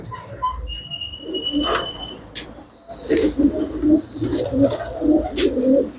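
Pigeons coo in repeated low bursts close by, with sharp chirps and a brief flutter of wings mixed in.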